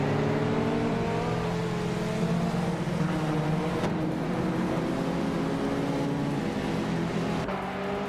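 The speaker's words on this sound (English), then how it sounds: "the race kicks off at Autumn Ring with the Empress on pole, piloting a classic 1980 Volkswagen Golf GTI" A 1980 Volkswagen Golf GTI race car engine drones steadily in a video game race at Autumn Ring, a loud, continuous hum with shifting pitch that briefly dips around the middle and again near the end.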